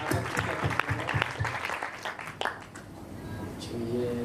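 Inside a church service, a congregation breaks into applause, a burst of clapping that swells and then thins out over several seconds, with voices mixed in.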